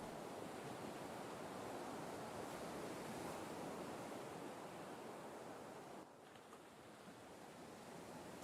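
Ocean waves wash onto an empty springtime beach with icy water in the video game Perfect Tides, a steady broadband surf roar that dips slightly partway through.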